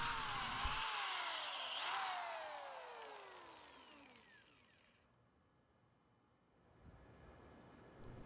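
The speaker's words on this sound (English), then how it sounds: "drill a little pilot hole into the fence post" A power drill spins up and bores a pilot hole into a wooden fence post, its whine sliding down in pitch as it bites, then winds down into near quiet.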